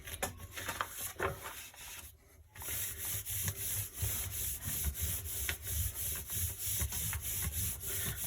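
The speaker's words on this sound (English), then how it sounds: "I'm just going to burnish it again, going around the edges." Paper being burnished onto an inked printing block by rubbing, working around the edges; a steady, close scratchy rubbing continues throughout with a brief pause near the start.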